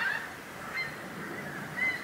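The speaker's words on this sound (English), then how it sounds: "Can you hear the geese?" Geese honking outdoors at a quiet campsite in Norfolk, a few distant calls rising over steady ambient background with no talking.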